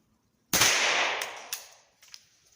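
Keystone Cricket .22 caliber youth rifle fires one sharp, close crack that rings out and fades, followed by a few fainter clicks and clatters, likely from the bolt being worked.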